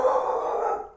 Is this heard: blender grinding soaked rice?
no